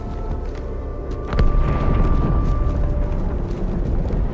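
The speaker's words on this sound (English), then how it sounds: "That explosion came from inside the Athens, same as the Malta." Massive explosion aboard a space station in the Halo 2 game: a deep, rumbling roar fills the scene, swelling sharply partway through and sustaining as a heavy, continuous low-end blast with no talking.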